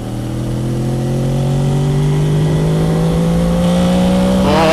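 A Honda VFR800 motorcycle revs hard and close, its engine tone climbing steadily before the VTEC engages near the end with a sudden, harsher rise in pitch.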